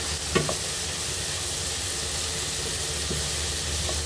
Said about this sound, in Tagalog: Haluin lang natin ng konti